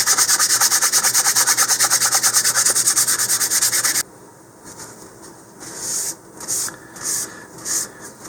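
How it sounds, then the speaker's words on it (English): Sandpaper of 220 grit rubbing a model rocket nose cone in a steady, fast back-and-forth rasp for about four seconds, close and loud, then softer intermittent scraping strokes with brief pauses. "I'm going to continue sanding that with a bit more 220 here"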